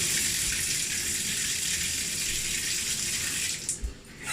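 Water pours from a newly installed shower head in a steady, loud hiss of spray, briefly shifting and splashing near the end.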